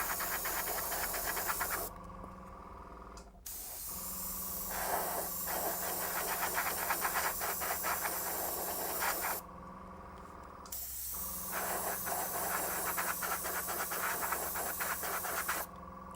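An airbrush sprays paint onto a model train wagon in long, steady hissing bursts, broken by two brief pauses, close and fairly loud with no talking.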